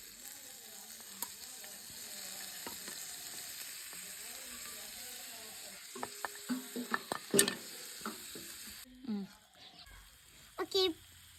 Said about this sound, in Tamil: இப்போ நம்ம கட் பண்ணி வச்சிருக்க டொமேட்டோவை ஊற்ற